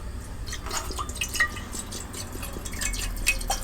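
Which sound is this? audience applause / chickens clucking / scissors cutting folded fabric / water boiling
water boiling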